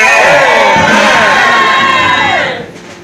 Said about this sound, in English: If you believe, shout a louder amen.